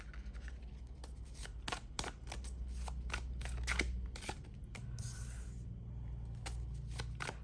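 Tarot cards shuffled by hand give quiet, rapid riffles and soft slaps in an uneven rhythm, close but faint, with a low background hum and no talk.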